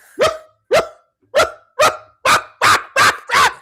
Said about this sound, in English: One dog could be barking.